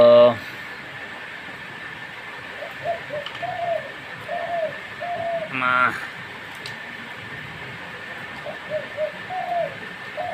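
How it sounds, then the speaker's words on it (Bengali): A caged decoy hunting bird, kept in a double-chambered trap cage, coos in repeated short dove-like phrases through steady background noise, with a loud burst near the start and another near the middle. "ওই যে আমার গোল কাঁচার পাখি ডাকতেছে, ডাবল কাঁচার পাখি।"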